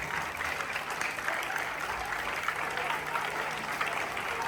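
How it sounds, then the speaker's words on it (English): Steady, dense applause from an audience greeting newly elected school prefects at a school ceremony, continuous and fairly loud throughout with no pauses. "So let's clap, keep clapping."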